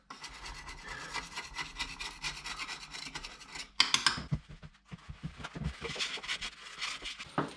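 Close rubbing and scrubbing strokes come from wiping clean a bathroom basin during a tap replacement. The rhythmic rasping grows briefly louder and more clattery in the middle.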